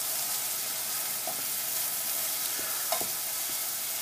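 Minced meat frying with cumin and chili in a pan, a loud continuous sizzle up close, broken by a few soft scraping stirs, with no voices.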